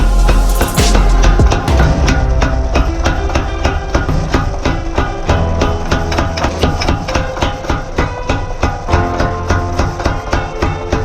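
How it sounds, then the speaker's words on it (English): Power hammer forging a steel billet for a hammer eye drift, loud, rapid, steady metallic blows repeating continuously for the whole stretch, with a sharp clang at the start. "Keep forging on it, keep rounding it out"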